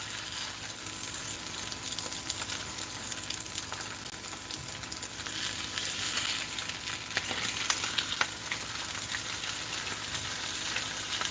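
Eggs frying in a pan while being folded, a steady close crackling sizzle with occasional scrapes and taps of a utensil, continuous with no talking.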